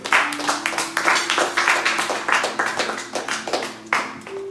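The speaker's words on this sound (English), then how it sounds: "Can we give him a round of applause?" Applause from an audience at a church teaching event greets an elder about to bring a lesson, with rhythmic clapping bursts rising and falling over a steady hum, fairly close and moderately loud.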